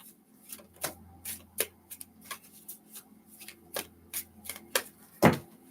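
Stiff tarot cards are shuffled by hand close to the microphone in a series of sharp, irregular snaps and riffles, ending in a louder slap of the deck.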